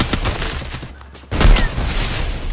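A double-barrel shotgun goes off in a video game, a loud booming blast cutting in partway through, surrounded by scattered quicker gunfire and dense game noise.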